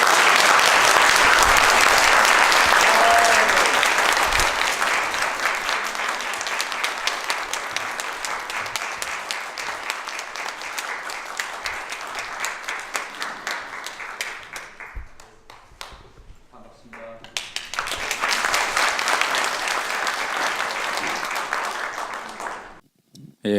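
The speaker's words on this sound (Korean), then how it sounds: "큰 박수로 환영해 주시면 감사하겠습니다." A university lecture audience in Seoul gives a speaker a welcoming round of applause, loud dense clapping that slowly thins, dips almost to quiet, swells again, then stops abruptly.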